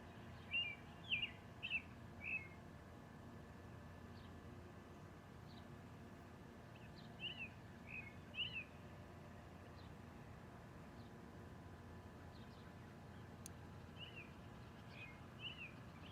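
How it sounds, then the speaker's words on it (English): Several birds chirp and trill in short bursts at a middle distance, spaced out over a soft, steady rush of a flowing river that runs underneath throughout. "this quiet is a melody of birds, harmonizing with the river that flows a steady stream, constant and ever-flowing"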